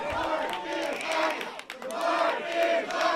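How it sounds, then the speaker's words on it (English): A wrestling crowd at a Portland pro wrestling show chants in rhythmic, repeated phrases, a loud massed roar of voices rising and falling across the venue. "Crowd chanting"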